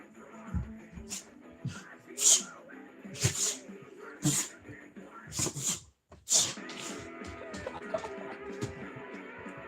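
A small dog sneezes several times in short, sharp bursts, spread across the clip amid light background talk and household noise.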